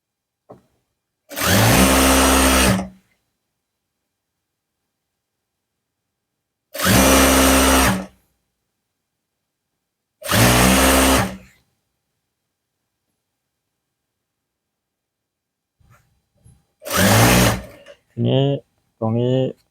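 An electric sewing machine stitches a cover for a strap in three loud, close bursts of a second or two each, separated by silence, followed by a shorter final run and someone speaking.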